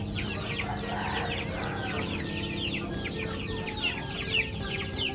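Native chickens cluck and chatter nearby in a continuous busy chorus over a steady low farmyard hum, with a few louder clucks near the end.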